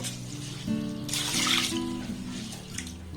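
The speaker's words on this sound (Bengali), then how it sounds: "এবার এই আতপ চালটাকে প্রথমে 2 থেকে 3 বার খুব ভালোভাবে জল পাল্টে পাল্টে আমি ধুয়ে নেব" Sun-dried rice is washed in water, with steady running and sloshing water and a brief louder splash in the middle.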